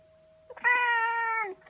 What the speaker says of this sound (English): Sorry, that's my kitty.